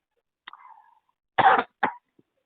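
A man in a tense loan settlement negotiation coughs a few times in quick succession, close and fairly loud, with short gaps of silence around the bursts.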